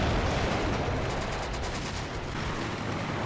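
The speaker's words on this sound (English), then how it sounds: "now, yeah, the artillery barrage starts on the left flank as well near Troteval" Continuous rumbling artillery barrage near Troteval in the WWII game Combat Mission: Beyond Overlord, a dense steady roar of distant blasts and gunfire with no clear gaps, heard alone.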